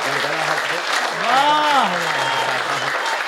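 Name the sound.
audience applause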